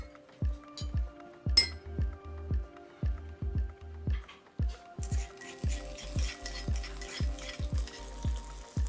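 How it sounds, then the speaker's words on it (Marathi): Ghee tempering with cumin and asafoetida for a bottle gourd bharit: a run of metal clinks from a spoon against a pot, then a bright, steady sizzle taking over in the second half. "यावर आता तूप, जिरं, हिंग ह्याची फोडणी मी घालणार आहे"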